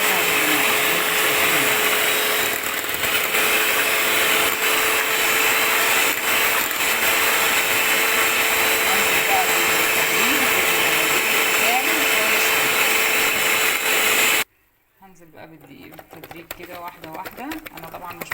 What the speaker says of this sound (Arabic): مش مشغله الخلاط، لسه هشغل المضرب